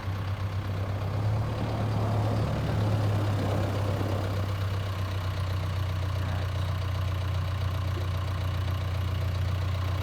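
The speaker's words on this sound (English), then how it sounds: "this is a 310 SK Backhoe we've got for sale right here" A John Deere 310SK backhoe idles at an equipment dealer's lot, its diesel engine giving a steady, close, low drone that holds evenly from start to finish with no talking.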